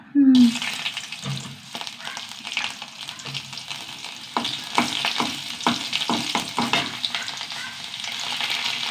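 Mustard seeds crackle and pop in hot coconut oil in a pan, with sharp irregular bursts over a steady bright sizzle that thickens toward the end; no voices.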